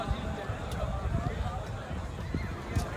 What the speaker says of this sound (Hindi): चौधरी राशिद सोहेल गुजर घोड़ा मार्शल, अच्छे सवार, अच्छा घोड़ा